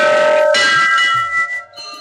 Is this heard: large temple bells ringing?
yes